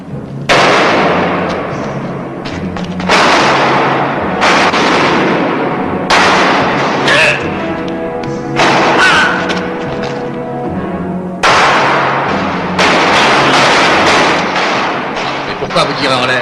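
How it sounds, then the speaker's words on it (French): Gunshots fired into the air in a French-dubbed western film, loud booming shots repeating roughly every two seconds, each followed by a decaying echo, with no talking over them. "Mais pourquoi vous tirez en l'air?"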